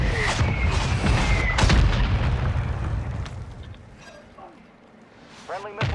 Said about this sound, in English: Friendly missile striking close proximity.